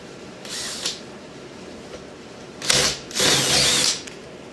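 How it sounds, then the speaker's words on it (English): Power drill boring a hole through tough plastic on a subwoofer cabinet for pop-in casters: a short burst near the start, then two longer whirring drill runs close and loud, with quiet pauses between. "I got that hole drilled out there."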